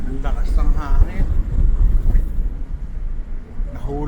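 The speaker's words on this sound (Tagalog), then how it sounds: "Grabe, ang lakas ng hangin." Strong wind at Milford Sound, New Zealand, buffets the microphone with a heavy low rumble, while a voice talks intermittently underneath and water or boat noise churns along.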